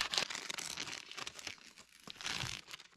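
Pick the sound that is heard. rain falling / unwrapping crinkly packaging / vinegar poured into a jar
unwrapping crinkly packaging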